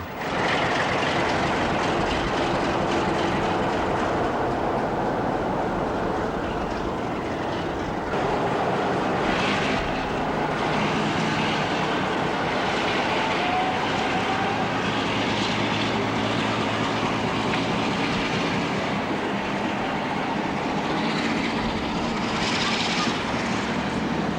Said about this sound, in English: One of their more reliable trains was the 1515 Paignton to Nottingham, seen here with 45118 at Paignton on the 16th of May.